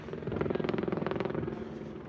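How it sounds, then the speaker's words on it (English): Police helicopters' rotors chop in a steady rhythmic thump over a street protest in San Diego, moderately loud and somewhat distant overhead. "a couple police helicopters up in the sky"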